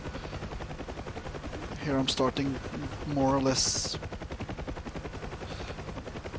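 A UH-1 Huey gunship helicopter in the DCS flight simulator game makes a steady, rapid rotor thump throughout, while someone talks briefly over it.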